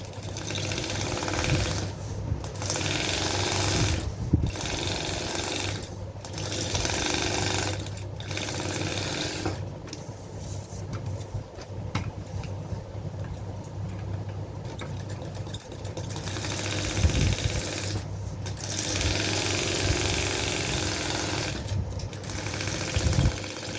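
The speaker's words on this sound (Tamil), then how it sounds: "அடுத்த லைன் இப்படி கட் பண்ணாமே தைக்கலாம்னு நான் காமிக்கிறேன்" A sewing machine runs in repeated bursts during a tailoring class, its fast mechanical chatter stitching a line of fabric, pausing briefly between runs and slowing into a quieter stretch in the middle.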